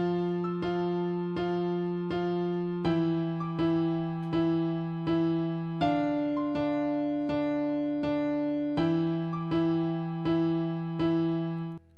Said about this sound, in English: I opened FL Keys and I put down this chord progression.